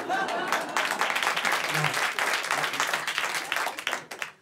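Audience at a comedy show applauding, a loud sustained burst of clapping that stays dense throughout and tapers slightly at the close.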